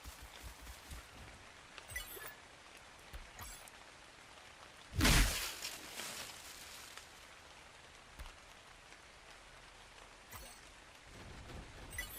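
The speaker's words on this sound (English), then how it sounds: "It is raining again" Steady rain falls outdoors on a hillside during work on a curly slide build, a soft continuous patter with one brief louder splash or clatter midway and scattered small knocks.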